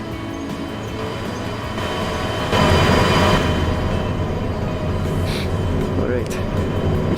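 Locomotive in the Derail Valley train game hauling a train, a steady rumbling drone with rising intensity midway, mixed with faint mechanical clanks.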